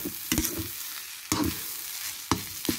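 Fried rice with fresh fermented pork and egg is stir-fried in a pan sized for two, with a few distinct scraping strokes of the spatula spaced out over a soft, steady sizzle.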